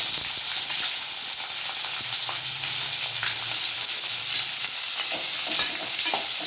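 Chopped onions sauté in hot oil with cumin seeds and curry leaves for a potato masala, giving a steady, close sizzle with faint stirring scrapes throughout and no talking.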